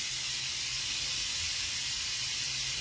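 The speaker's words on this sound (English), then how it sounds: "once all the air comes out, then I know that it's depressurized" Steady steam hiss from a pressure canner venting as it depressurizes after canning mustard, a continuous broadband rush that holds level throughout with no voices.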